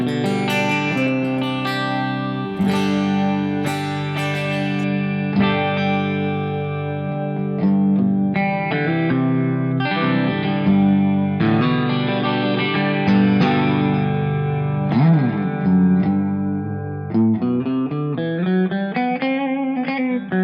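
An electric guitar played through reverb and chorus pedals with other effects engaged, giving sustained, shimmering chords and single notes that ring out with a wash of reverb, loud and alone with no talk.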